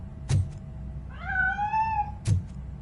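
A cat gives a single clear, rising-then-falling meow, mid-distance, framed by two sharp knocks before and after in an otherwise quiet setting.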